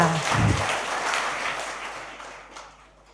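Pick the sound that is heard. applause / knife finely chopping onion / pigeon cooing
applause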